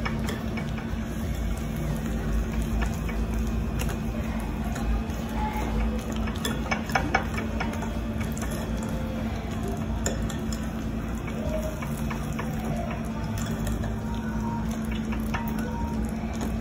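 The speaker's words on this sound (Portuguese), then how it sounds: "Mexendo aqui as claras" Egg whites for a coconut cake are stirred by hand in a bowl, a steady, continuous scraping and swishing that runs unbroken for the whole stretch at moderate volume, with no talk.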